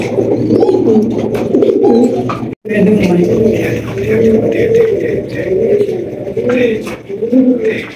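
Pigeons at a pigeon market give loud, close, overlapping coos that roll on almost without pause, with one brief break in the middle.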